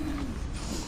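Racing pigeons at a loft coo softly in a single brief low call, close by, over a steady background hiss.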